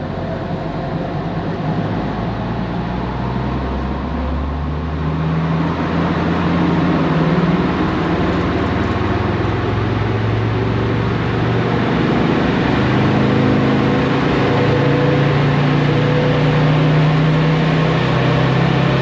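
A Land Rover Defender Td5 diesel engine makes a dyno pull, a loud steady drone rising in pitch over the run, constant and close with no talk.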